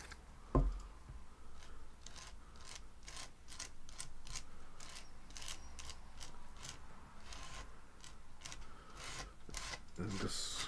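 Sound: scraping embossing paste onto a card

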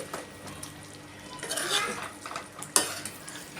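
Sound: chicken frying and being stirred in a pan

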